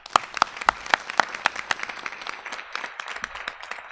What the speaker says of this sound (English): Just want to give those individuals a round of applause.